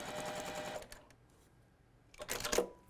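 A sewing machine stitches fabric for half square triangle quilt blocks, with a short close whirring run, then a pause, then a second brief burst of stitching.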